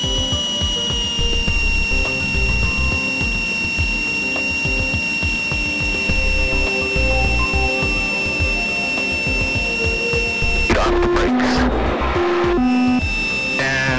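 Aircraft stall warning horn during a landing approach with gear down, a loud, steady high-pitched tone sounding continuously over engine drone, then cutting into choppy bursts near the end.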